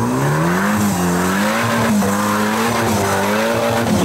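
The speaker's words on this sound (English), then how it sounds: "a little four-cylinder working real hard here" A Suzuki 4x4's small four-cylinder engine strains loudly over an off-road competition hazard, its close, droning revs wavering up and down as it labours for traction, with no talk over it.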